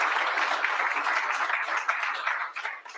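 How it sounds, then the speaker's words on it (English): Audience at a government announcement applauding emergency shelter staff, a sustained dense round of many hands clapping in a hall, moderately loud and steady before tapering slightly at the end, with no talk over it. "we should give them all a round of applause for the incredible work that they've done"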